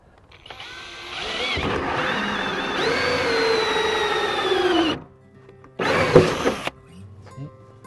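Power tool with a hole-cutting attachment biting into material at an allotment, a loud whining grind that rises in pitch as it cuts, stops, then returns for a second short burst.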